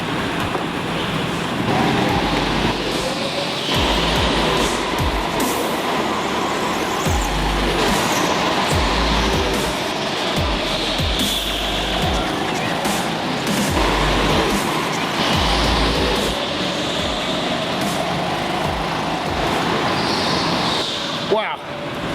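A Sodi racing kart is driven hard around a demanding track at the 2016 British rental kart championship. The engine drone rises and falls in pitch with each acceleration and braking, mixed with constant wind rush.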